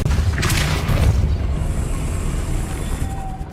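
A Depulso spell cast in Hogwarts Legacy lands as a loud, deep boom with a rushing blast that swells in the first second, then fades into a sustained rumbling wash.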